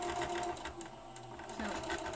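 A sewing machine top stitching around the edge of a pleated fabric face mask, a continuous close mechanical hum and rattle throughout, with a brief spoken word.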